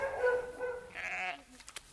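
A sheep bleats during lambing, a wavering, drawn-out cry followed by a second shorter, higher bleat, fairly close, then a few faint knocks and rustles as it fades.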